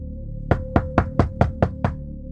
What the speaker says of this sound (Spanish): cuando alguien tocó a la puerta.